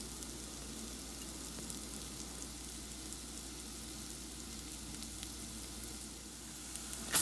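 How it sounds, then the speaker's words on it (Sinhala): Chopped garlic fries in a pan with a steady, quiet sizzle that holds evenly throughout, with no voices. "දැන් අපි මේ සුදු ලූණු ටික විනාඩි 2ක් විතර මේ විදියට ෆ්‍රයි වෙන්න තියෙනවා"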